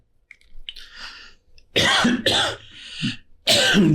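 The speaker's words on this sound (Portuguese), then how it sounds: "Deu uma engasgada." A man who has just choked coughs hard several times, with a few smaller throat-clearing sounds followed by three loud, harsh bursts close to a microphone.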